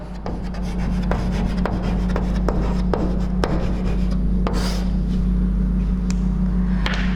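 Chalk or marker writing out a chemistry reaction mechanism on a classroom board, repeated short scratches and taps in an irregular rhythm over a loud steady hum, without talk.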